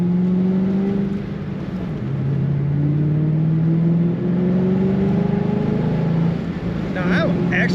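A supercharged 2006 Ford Mustang Saleen S281 convertible engine in second gear through a traffic circle, a steady droning hum with rising and falling pitch, loud and continuous while someone talks over it.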